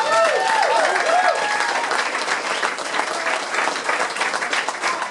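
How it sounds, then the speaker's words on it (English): Audience gives a sustained round of applause after a singer-songwriter's performance, thick and even, with a few cheers and whoops rising over the clapping early on. "That's another round of applause."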